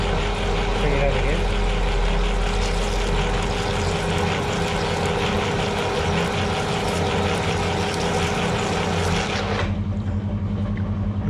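A vehicle driven by a teenager through the bush, a loud continuous engine drone that holds steady for most of the clip, then drops away sharply near the end, with voices talking over it.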